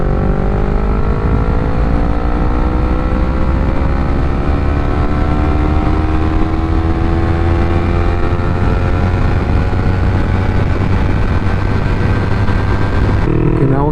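Yamaha MT-03 motorcycle pulling hard in fourth gear from 40 to 80 mph, a loud, steady engine drone rising gradually in pitch over a continuous roar of wind, with a brief drop at the very end.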